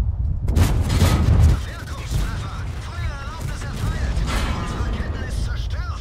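Artillery shells and cannon fire in a World of Tanks battle: a heavy cluster of booming blasts at the start, then quieter rumbling and scattered shots under mechanical engine hum.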